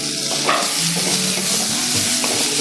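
Onion and tomato sizzle and fry steadily in a pan for mutton curry, a continuous close crackle with occasional stirring scrapes and no talk.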